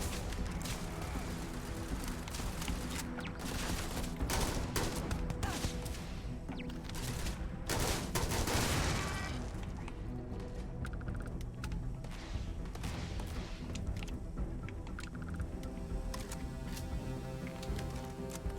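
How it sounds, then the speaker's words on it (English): Rapid turret gunfire in a video game rattles on continuously, loud and dense throughout, with booms and crashes layered in and no clear break. "These turrets are so annoying."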